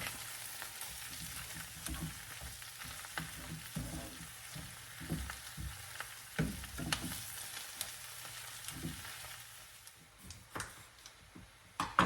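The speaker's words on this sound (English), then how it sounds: "all I'm doing here is just keeping everything moving where I won't burn those dehydrated onions and the garlic" Dehydrated onions and garlic fry in a pan while being stirred continuously, giving a steady sizzle broken by scraping, tapping utensil strokes that grow busier toward the end, with no talking.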